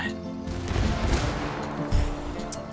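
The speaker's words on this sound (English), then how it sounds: "What was that explosion?" A game-world explosion in Ghost Recon Wildlands set in Bolivia, with heavy booming and rumbling blasts layered over sustained loud noise, two stronger thumps standing out close by.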